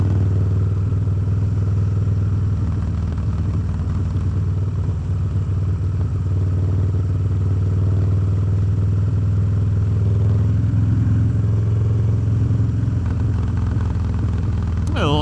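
A custom Harley-Davidson Dyna Street Bob being ridden, its engine a loud, steady low rumble with wind noise layered on top, continuous and close throughout.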